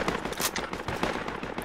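Machine gun fire in the Project Reality military shooter rattles in rapid, dense bursts, loud and close, with sharp repeated cracks throughout.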